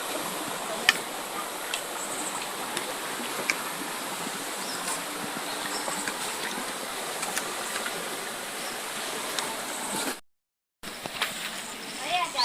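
A swollen river rushes past at Purok Damayan, Sitio Malatgaw, a steady broadband roar of flowing water close by with a brief dropout near the end; a voice speaks over it.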